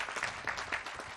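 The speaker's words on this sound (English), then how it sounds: "Let's give our kids a round of applause" Audience at the USS Illinois Navy commissioning ceremony gives a brief round of applause for military kids, a short, fairly faint patter of clapping swelling in a few quick bursts.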